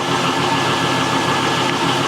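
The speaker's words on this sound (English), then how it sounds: "You see how it sounds when it idle down." An LS-swapped Monte Carlo SS with long tube headers idles close by, a loud steady rumbling engine drone that holds even throughout, with no one talking.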